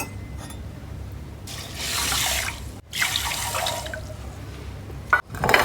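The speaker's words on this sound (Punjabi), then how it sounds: "ਇਸ ਤੋਂ ਦੁੱਗਣਾ ਪਾਣੀ ਪਾਵਾਂਗੇ ਜੀ" Water pours from a tap or vessel onto sugar to make thin gulab jamun syrup, a steady rushing splash lasting several seconds with a short break, close and fairly loud.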